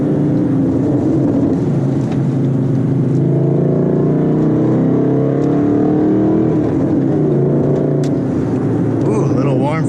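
A Ford Mustang 5.0's exhaust rumbles steadily from inside the cabin as it drives, a loud low drone that swells slightly, with people talking over it.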